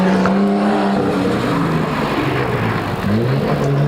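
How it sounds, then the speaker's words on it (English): Nissan Skyline race car at a hillclimb hairpin, its engine note dropping as it brakes hard with a locked front wheel, loud and close, a continuous roar with shifting pitch and a hint of tire squeal. "locked up the front wheel there as he hit the brakes pretty hard on the Skyline"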